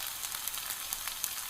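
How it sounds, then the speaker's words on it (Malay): Sambal chili paste sizzles and fries steadily in a hot pan, the first stage of a Thai chicken krapao; a dense, even crackle with small pops, close and alone without talk. "Inilah rupanya kita goreng ataupun kita tumis macam ni lah."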